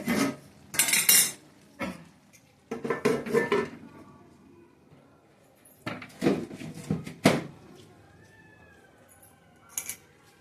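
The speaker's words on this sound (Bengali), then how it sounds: "এবার সামান্য একটু ঢাকা দিয়ে দেবো।" A lid goes onto a cooking pot with several loud metallic clanks and scrapes in separate bursts, the metal rattling between quieter gaps in a kitchen.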